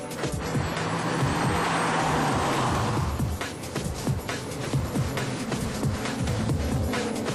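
A Renault Formula 1 car driving on a track in France, a steady loud engine roar that holds for a few seconds and then breaks into rougher, uneven bursts, heard close with no talking.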